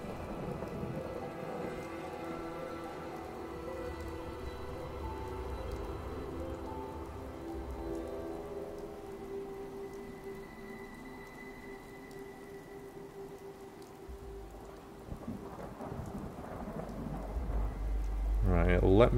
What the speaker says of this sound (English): like a full day of rain here